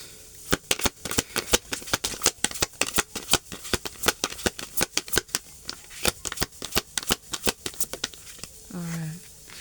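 Tarot cards being shuffled fast, a dense run of sharp riffling snaps and flutters close by, with a brief voice at the very end.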